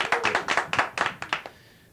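A few people clap in a thin, scattered burst of about a dozen sharp claps that trail off within two seconds.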